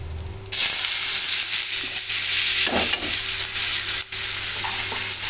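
Dal hits hot oil with turmeric and asafoetida in a kadai and erupts into a loud, steady, close sizzle that hisses on through the rest of the clip, with a few brief stirring scrapes.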